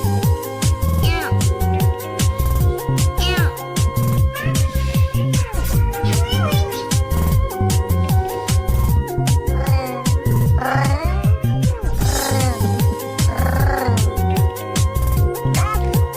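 A cat meows repeatedly in drawn-out, rising cries over a loud, busy background of music or other noise.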